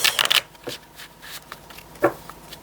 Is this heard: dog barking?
no